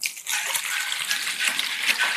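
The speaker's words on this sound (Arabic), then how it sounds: "هتنزل باول لتر ميه" A liter of water is poured into a Brill Hi-Lux hair dye mixture, giving a close, steady splashing hiss that carries on evenly, with no talking over it.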